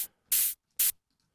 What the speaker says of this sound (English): white noise kind of just fills up the mix on everything